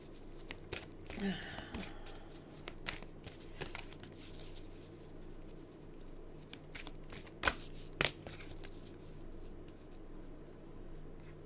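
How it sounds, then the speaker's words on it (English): Tarot cards shuffled by hand during a live reading, soft riffling and crisp snaps in irregular bursts, close and fairly quiet, with no talking. "I'm shuffling to give you one"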